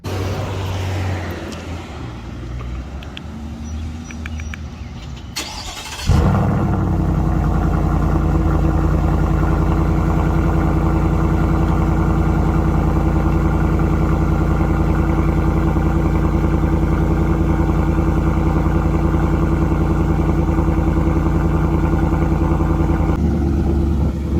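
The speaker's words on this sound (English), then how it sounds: "I'm going right in the middle at Borla S-Type. I'm gonna have you guys take a listen to what that sounds like." A Ford F150 with a 5.0 engine and a Borla S-Type exhaust system fires up after a few quiet seconds, then settles into a loud, steady, deep idle rumble that continues to the end.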